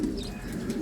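A racing pigeon gives a low, soft, steady cooing close by, a brief murmuring call with no talk over it.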